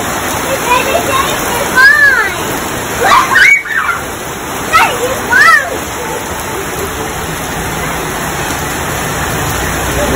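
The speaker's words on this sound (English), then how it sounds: "it's raining pretty good" Heavy rain falls steadily outdoors as a broad, constant hiss, with a few brief louder swishes of a passing vehicle on the wet road and occasional faint voices.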